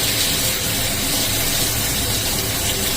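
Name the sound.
eggplant frying in a pan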